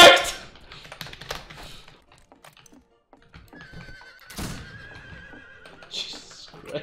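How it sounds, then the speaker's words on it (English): A horse whinnies loudly at the start of a Fistful of Frags match while being ridden, followed by game sounds of hoofbeats, thuds and a rising tone, with quieter gaps between. "Jesus Christ, he's actually riding on horse."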